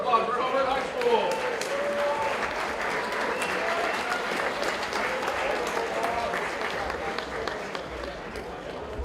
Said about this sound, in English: one more round of applause for Homewood High School